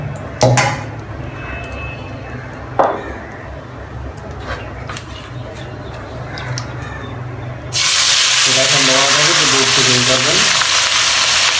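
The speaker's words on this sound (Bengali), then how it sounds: "আমরা তেল দিলাম কড়াইতে, তেলটা একটু গরম হোক, তারপর আমরা ওই মশলাগুলো ভিতরে দেবো।" Spices frying in hot oil in a wok for a pilaf roast, a steady loud sizzle and hiss that surges sharply partway through, with a few clinks and soft stirring sounds before it.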